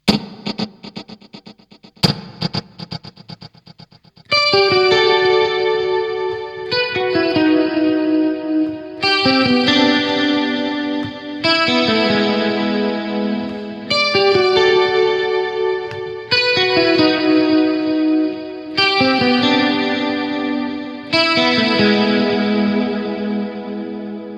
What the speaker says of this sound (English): I've just got a stereo delay, and it's got a bit of detune on it for a bit of chorusing